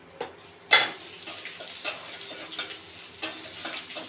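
Bay leaf, dried chili and five-spice seeds fry in hot oil, producing a light sizzle broken by sporadic sharp pops and utensil clinks, with one louder clatter early on.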